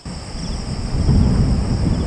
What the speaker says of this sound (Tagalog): Medyo kumukulog-kulog tsaka meron liwanag.